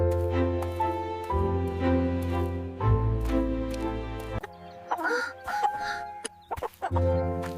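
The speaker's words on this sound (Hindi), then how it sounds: "ये मुर्गी यहाँ कहाँ से आई?" A hen clucks and calls in a series of short, tonal bursts, fairly close and clear, with a few broken, irregular squawks in the middle.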